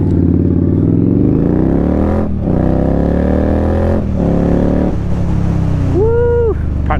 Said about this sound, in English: This bike is impressive, I must admit, for the power 0 to 60.